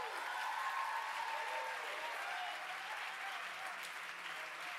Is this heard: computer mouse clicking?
no